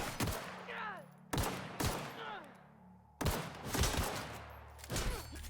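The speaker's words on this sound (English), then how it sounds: "I shot straight past the Marauder on the first shot there." Gunfire in the sci-fi shooter The Outer Worlds, with four or five sharp loud shots spread over several seconds, each followed by a ringing tail and a quieter low hum between bursts.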